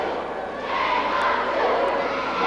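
Wrestling crowd at an early-1990s ECW television event roars and shouts continuously, a dense, loud wash of voices building slightly midway with a couple of sharp accents.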